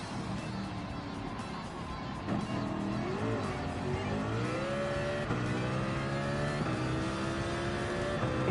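A race car engine in Gran Turismo 7 revs and accelerates hard through gear changes, its rising whine steady and loud across the lap section, with faint tire squeal and no talking over it.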